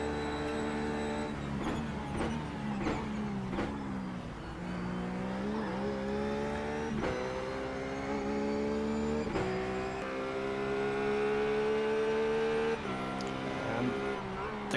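A race car engine in the iRacing sim drones loudly and continuously, its pitch climbing through each gear and dropping at every shift, with a steady rhythm of upshifts and downshifts throughout.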